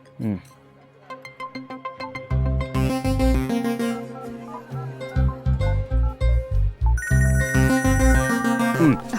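A mobile phone ringtone plays loudly and close, a bright repeating melodic tune with a punchy rhythmic beat running continuously.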